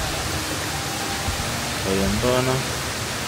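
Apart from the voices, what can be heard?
Taytay Falls waterfall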